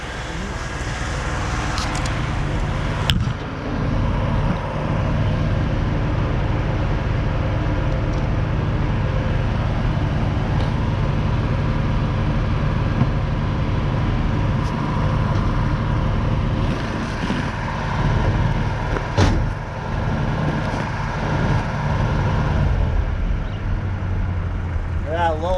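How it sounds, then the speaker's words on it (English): A car engine fitted with a new carburetor keeps up a steady low rumble while the gas pedal is feathered, settling gradually toward idle, with a voice talking over the engine noise. "I'm gonna feather the gas pedal, it's gonna fucking rev down"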